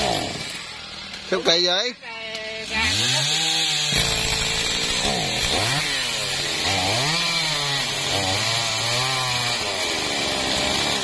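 A chainsaw cuts a heavily fruiting Thai jackfruit tree, its engine revving and wavering loudly up and down while it bites into the wood nearby, and someone speaks briefly early on.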